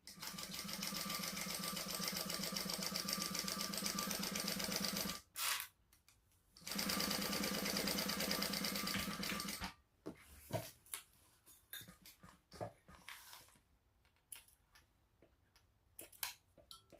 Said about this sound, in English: we're just going to sew across that edge and then trim it.